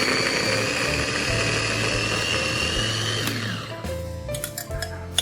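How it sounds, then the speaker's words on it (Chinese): An electric meat grinder whirs steadily as it minces lean pork into fine mince, a loud continuous motor drone that slows and winds down near the end, followed by a few light clinks. "把切好的瘦肉放到绞肉机里面，把它绞成肉末"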